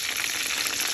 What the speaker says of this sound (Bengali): চিকেন বলগুলো ভাজার সময় সুন্দর গরম হয়ে যায়